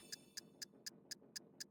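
Clock ticking in the Princess Peach Showtime video game, seven crisp, evenly spaced ticks at a steady rhythm, clear and close over a faint background.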